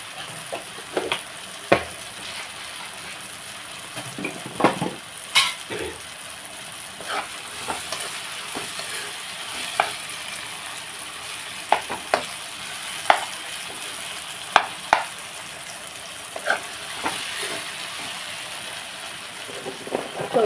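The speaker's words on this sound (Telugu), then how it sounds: "ముక్కలు కూడా వేసేస్తాను ముక్కలు వేసేసి బాగా కలిపి కలిపేసి" Curry pieces frying in a pan while being stirred, a faint steady sizzle broken by repeated sharp clinks and scrapes of the utensil at irregular intervals, with no talking.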